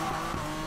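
A BMW M3 GTR drifting through a corner in the Need for Speed Payback racing game, its engine roaring steadily with a continuous tire skid, loud and close, for under a second.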